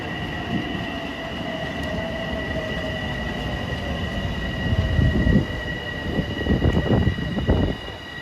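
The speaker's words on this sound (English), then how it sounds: "There's 2052 from New York to Ronkonkoma arriving on 3 at 2:03." A Long Island Rail Road train from New York to Ronkonkoma pulls into a station on track 3, its rumble building under a steady hum, with wheel squeals and clanks growing louder near the end as it arrives.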